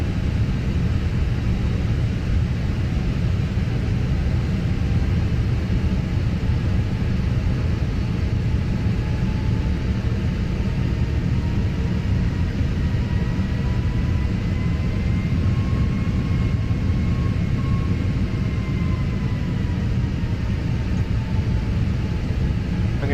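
Fenix A320 airliner taxiing in Microsoft Flight Simulator: a constant, steady engine rumble and broadband roar with a faint high whine drifting slightly, sustained and unbroken with no talk.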